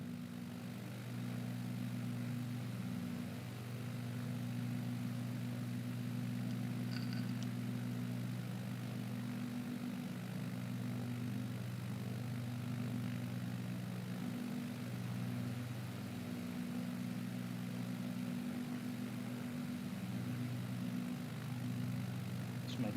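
A steady propeller aircraft engine drones on in Microsoft Flight Simulator 2020 during a descent with reduced thrust, a constant low hum with slight pitch wavering, close and unbroken, with no talk.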